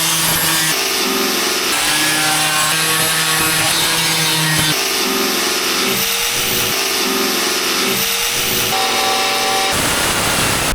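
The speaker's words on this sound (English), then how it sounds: "I'll use this, which is a die grinder with a sanding wheel attachment" A die grinder whines at high speed as its sanding wheel scours welds on a 1993 Ford F-350 floor, a loud, continuous abrasive roar with pitch shifts as pressure changes.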